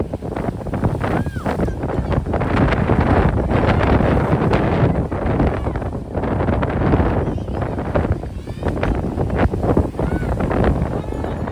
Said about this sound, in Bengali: এত হাওয়া, হাতে ফোনটাও ধরে রাখা যাচ্ছে না।